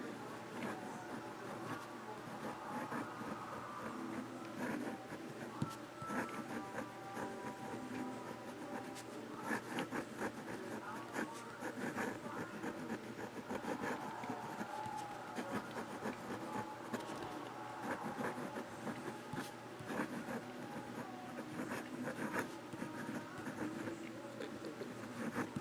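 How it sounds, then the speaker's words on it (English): A Waterman fountain pen with a fine nib writing on paper, giving a faint continuous scratching and rubbing of strokes, close and quiet, with a voice speaking softly at times. "Now regular writing."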